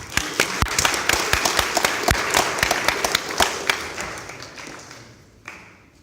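An audience claps for a presenter at a B&R introduction academy session, a dense patter of hand claps that fades toward the end, with a few isolated louder claps near the finish.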